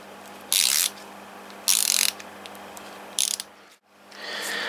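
A Facom Protwist ratcheting screwdriver clicks in three quick bursts of close, crisp ratchet ticks as it turns to screw and then unscrew, with a softer rub at the end and no talking.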